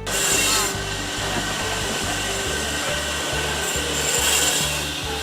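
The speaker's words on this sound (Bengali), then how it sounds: "এই মেশিনটির মাধ্যমে এই বড় বড় গাছের গুড়িগুলোকে ছোট ছোট টুকরায় কাটা হয়" A wood cutter machine saws large tree logs into short pieces at a match factory, giving a loud, continuous grinding buzz with a steady mechanical drone underneath and rough rasping texture throughout.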